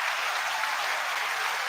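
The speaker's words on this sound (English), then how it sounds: "a big round of applause for Scoot McNairy" An audience applauds an actor at a comedy show, dense steady clapping that is close and continuous throughout.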